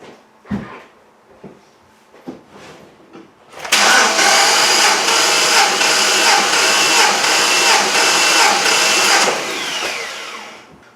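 A Cadillac CTS-V engine with a compression gauge fitted cranks over on the starter, a loud steady rhythmic churning for several seconds after some quiet clunks, then stops.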